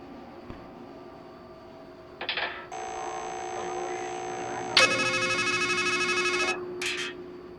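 A telephone rings in the horror video game Strangeland with bright, electronic ringing bursts, one short, then a long sustained ring, then another short burst, over a faint background hum.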